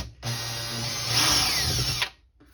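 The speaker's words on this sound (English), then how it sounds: "Let's pull these cover plate screws." A cordless power drill spins out the screws of an outlet cover plate in one steady whirring burst of about two seconds, close to the microphone.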